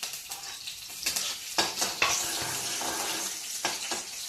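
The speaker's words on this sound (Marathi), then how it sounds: "पहिली मिरची टाकायची, म्हणजे छान चरचर होते" Green chilies crackle and sizzle in hot peanut oil, with bright popping spatters and stirring clinks of a utensil against the pan, close and fairly quiet, without talk.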